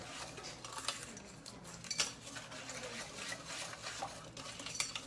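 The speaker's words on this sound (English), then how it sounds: "So what's supposed to work is the cornstarch. I'm going to whisk all this together." Whisk stirring a sauce with cornstarch in a bowl, faint quick clinking and scraping strokes repeating steadily, quiet and alone.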